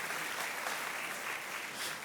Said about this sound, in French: Et on peut encore applaudir.